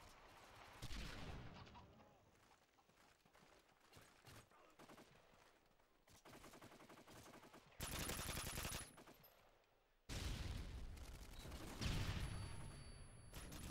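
Heavy M60E4 machine gun fire in Modern Warfare 3 multiplayer: bursts of rapid automatic shots, loudest in two sustained volleys later on, with sparse quieter gunfire and game sounds between them.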